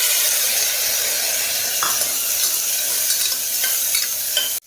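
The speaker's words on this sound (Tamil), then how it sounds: "சுண்டைக்காய்லாம் இந்த மாதிரி நல்லா ஓரளவுக்கு நல்லா வதங்கியிருக்கணும்" Turkey berries with shallots and tomato sauté in a pan, producing a steady close sizzle with scraping stirs and occasional clinks of the spoon against the pan before the sound cuts off.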